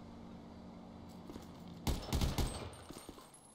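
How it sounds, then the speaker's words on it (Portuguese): Gunfire in the video game GTA V during a police raid on an abandoned hotel, a burst of several rapid shots cracking out after a quiet stretch, followed by fainter trailing reports. "Deixa eu fazer uns disparos aqui."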